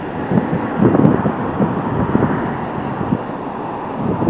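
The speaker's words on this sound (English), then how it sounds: "It's windy here." Strong wind on the Oregon Pacific coast roars steadily across the microphone in loud buffeting gusts, with a low rumble of big waves likely beneath it and no one talking.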